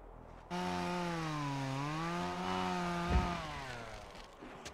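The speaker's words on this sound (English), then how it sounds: "We do need to pull out our chainsaw again," A chainsaw in the video game Obscure 2 drones steadily with a buzzing engine tone that rises and falls in pitch as it cuts logs. It sounds close and loud, with no talking.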